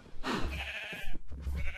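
Sheep bleating in the video game Minecraft, two short nasal bleats close together, near and moderately loud.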